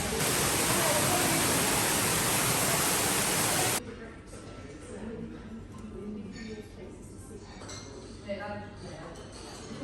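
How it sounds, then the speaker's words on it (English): Loud resort fountains roar as a dense broadband rush that cuts off sharply, leaving quieter background clinks and faint voices. "there's like fountains and stuff and they're so loud"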